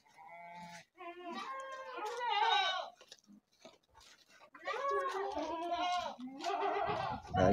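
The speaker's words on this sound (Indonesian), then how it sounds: "Dari kambing-kambing seperti ini hasil breedingan dari induk-indukan yang ada di situ." Goats on a Javanese goat farm bleat repeatedly, several wavering calls in uneven bursts with short pauses between, close and clear, with faint background noise.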